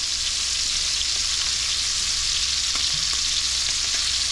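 Snipe sizzle and fry in a hot pan while being flipped, cooked toward medium rare, a steady dense crackle with scattered small pops running throughout, close and fairly loud with no talking.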